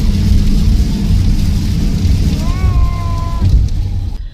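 Heavy rain drums hard on a car in a sudden downpour, a loud, dense, constant roar from close by. A faint wavering tone rises briefly partway through.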